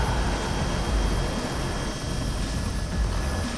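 A helicopter flies over a desert rally raid stage, a loud continuous rotor and engine roar that stays dense and steady throughout with no voices.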